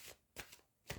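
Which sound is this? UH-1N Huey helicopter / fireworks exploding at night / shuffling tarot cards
shuffling tarot cards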